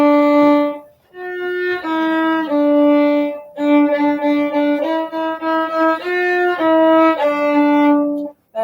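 A violin plays the simple tune Hot Cross Buns, a clear close melody of sustained bowed notes in short phrases with brief pauses between them, alone without talk.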